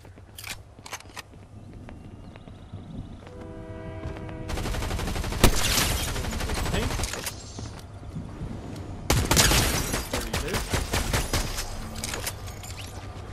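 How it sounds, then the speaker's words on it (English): Rapid bursts of gunfire from Fortnite crackle in two dense volleys, with scattered single shots and clicking building sounds between them, all game audio with no voices. "I was just shooting at his wall and then killed him somehow"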